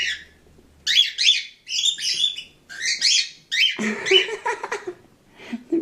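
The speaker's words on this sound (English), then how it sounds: "The bird talking to kitty." A pet bird kept indoors with a cat gives loud, close bursts of shrill chirps and squawking calls in a quick irregular series, with brief pauses between them.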